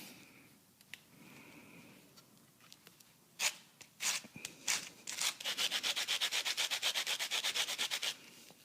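Citrus zest is grated on a cheese grater: scattered rasps at first, then a fast, even run of rhythmic scraping strokes, close and fairly loud.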